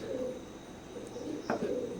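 Imported broad line Teddy pigeons coo softly nearby in a short, faint burst of low, throaty calls over quiet background hiss.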